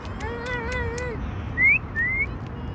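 A cat meows in a long wavering call, followed by two short high-pitched sounds that may be a person imitating a meow.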